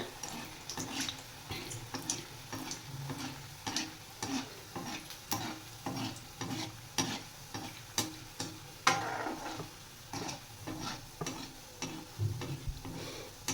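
Gulab jamun balls frying in hot oil while the pan is shaken, a steady bubbling sizzle broken by regular rhythmic swishes and clinks, close and moderately quiet throughout.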